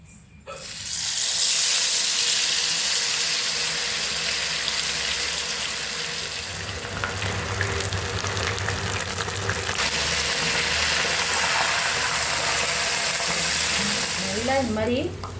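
Batter-coated mushroom pieces deep frying in hot oil for a roadside-style snack, a steady loud hiss and bubbling sizzle that continues throughout.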